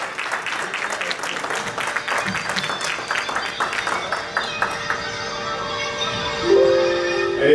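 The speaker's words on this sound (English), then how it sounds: "Clap like you know who he is already." An audience claps together at a health talk show, steady applause filling the room with a crowd murmur underneath and a few louder swells near the end.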